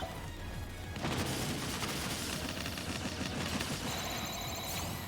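Loud, dense in-game cannon blast and crashing from Super Smash Bros. Ultimate, a sustained roaring barrage of booms and smashing that fills the whole few seconds with no let-up and no talk.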